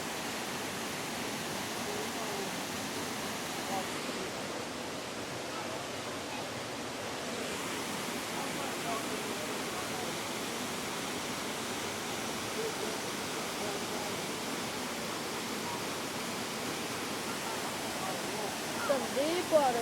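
Rushing rapids flow below the Brevard waterfalls, a steady broadband roar of churning water at constant level throughout, with faint voices underneath.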